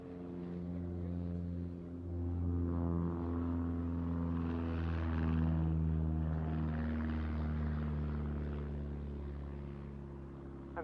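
Pitts Special aerobatic biplane flying a display at the Duxford air show, its propeller engine droning steadily and fairly loud throughout, swelling slightly in the middle as it passes.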